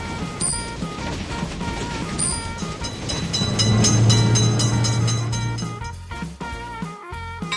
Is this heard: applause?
no